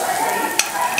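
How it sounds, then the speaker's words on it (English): Plantain frying in a pan for an African food workshop, giving a steady, soft sizzle throughout with a couple of brief sharper crackles. "in this process, we are just frying it"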